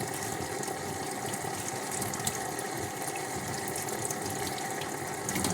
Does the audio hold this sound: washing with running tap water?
yes